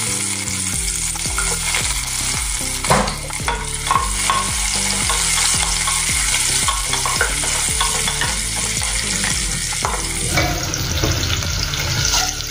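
Onions fry with cumin in hot oil for carrot and pea pulao, a loud continuous sizzle broken by regular stirring scrapes of a spoon in the pan.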